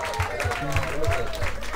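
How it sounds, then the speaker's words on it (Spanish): Applause from a comedy show audience, clapping with a loose rhythmic pulse, mixed with voices and tonal sound over the top for under two seconds. "Un aplauso muy fuerte"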